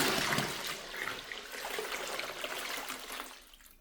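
Tap water poured into a container while making homemade stain-remover soap, a steady splashing, trickling stream running close by for several seconds with no talk over it.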